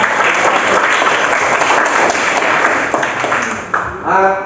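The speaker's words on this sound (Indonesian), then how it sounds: "Tepuk tangan ya." Classroom students clap together in a loud, dense burst of applause that fades near the end as a voice begins to speak.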